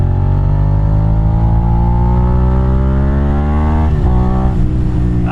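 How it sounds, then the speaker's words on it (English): A Suzuki SV650 V-twin motorcycle rides along a twisty country road, its engine loud and close with a throbbing, rising drone as it gently accelerates, dipping briefly near the end. "I absolutely love a V-twin, y'all."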